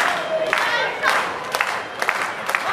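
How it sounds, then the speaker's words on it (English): A professional wrestling crowd cheers and claps for a wrestler during an SWE Fury match, a steady roar with sharp bursts of applause while a commentator talks over it. "Crowd trying to get behind Malico here as he works his way up"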